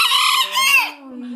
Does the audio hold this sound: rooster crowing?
yes